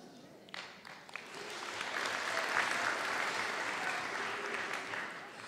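An audience at a Miss Excellence Picardie beauty pageant breaks into applause, a dense wash of clapping that builds from scattered claps to a sustained, even roar lasting several seconds.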